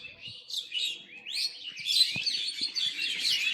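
Common mynas call on a foggy morning: a lively run of chirps, whistles and chattering notes from several birds, fairly close, with faint knocks in the background.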